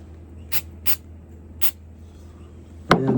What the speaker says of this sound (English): And I'm going to spray this again.